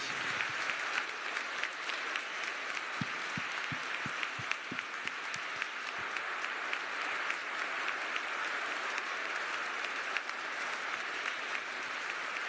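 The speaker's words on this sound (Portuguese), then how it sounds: "Vamos aplaudir a palavra de Deus." Congregation applauding the Gospel during an Easter Vigil Mass in church, a broad, sustained wash of many hands clapping, fairly distant and even, continuing for over twelve seconds.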